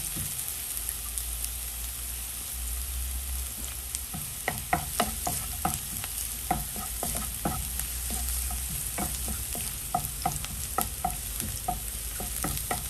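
Onion frying toward golden brown in a pan for chicken adobo with coconut milk. A steady hiss runs throughout, and from midway repeated clacks and scrapes come as a utensil stirs, close up and without talk.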